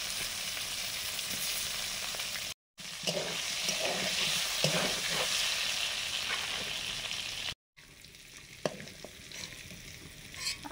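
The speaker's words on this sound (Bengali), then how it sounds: "আলুগুলো হালকা ভেজে নেব" Potatoes frying lightly in oil in a pan for a fish curry, a continuous close sizzle with repeated scraping and stirring strokes and a couple of brief cuts in the sound.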